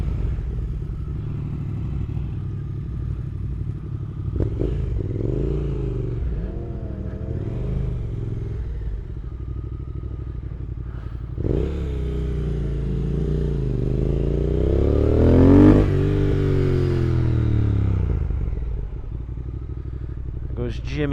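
A Yamaha R1 motorcycle engine idles and revs nearby, its low rumble rising and falling, then swelling louder as it pulls away, with a voice talking over it.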